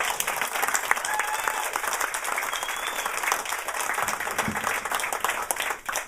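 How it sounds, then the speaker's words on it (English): Sustained audience applause at a live show, a continuous dense wash of clapping that holds steady at even loudness throughout. "Give him a round of applause"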